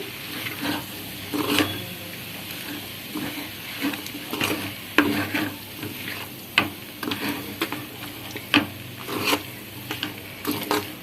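Mutton stir-frying with chopped green chillies in a pan: a low steady sizzle broken by repeated sharp scrapes and clacks of a spoon against the metal, coming in quick irregular bursts.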